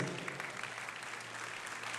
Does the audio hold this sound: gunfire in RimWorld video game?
no